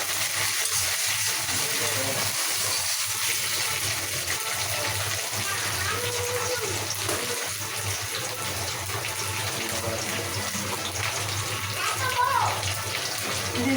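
Chopped onion fries in hot oil in a home kitchen, giving a continuous close sizzling hiss that runs evenly while a voice talks faintly underneath.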